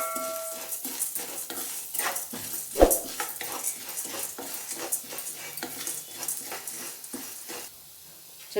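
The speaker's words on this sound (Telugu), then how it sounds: "ధనియాలు వేసుకొని వేపుకున్నాం." Coriander seeds dry roasting in a pan, stirred with a utensil that scrapes the metal in steady, rhythmic strokes while the seeds rustle and crackle faintly up close, with one sharper clink partway through.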